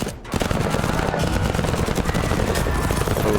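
Heavy gunfire rattles in the tactical video game Menace, with dense, rapid machine-gun bursts close and loud, running continuously for several seconds without a break.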